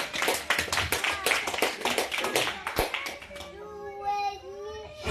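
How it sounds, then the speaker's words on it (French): A church congregation claps together during a Sunday service, dense rhythmic applause that fades out as voices rise in singing or calling. "Acclamons pour la voix du Seigneur Jésus."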